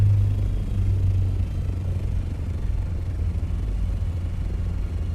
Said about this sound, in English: There it is, there's the storm.